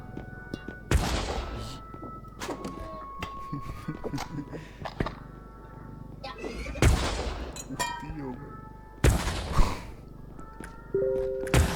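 Several loud, sharp gunshots in the video game R.E.P.O., in separate bursts, some echoing booms, with voices talking in between.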